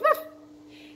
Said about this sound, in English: The dog can bark.